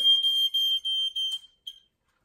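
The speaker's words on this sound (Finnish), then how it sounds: "Palovaroittimellähän ei saa tehdä näin, kun se rupeaa piippaa" Smoke detector beeping indoors during a cooking mishap, a series of loud shrill electronic chirps in quick succession, broken into several short bursts before stopping.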